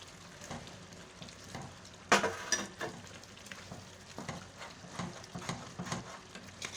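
Chicken liver (kaleji) frying in a cup of oil, a steady, soft sizzle with a sharp crackling flare partway through and scraping stirs in a quiet kitchen.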